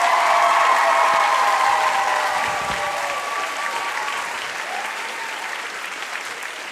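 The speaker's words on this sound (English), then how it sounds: "please, give your biggest applause to these companies, clubs, and your very own Mr." An audience at a Mr. LT 2021 contest claps for sponsors and contestants, a dense wash of applause that starts strong and slowly thins over several seconds, with a few faint cheers and some talking mixed in.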